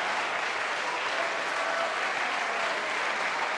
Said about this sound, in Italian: facciamo un applauso a sta ragazza che se ne va in Svezia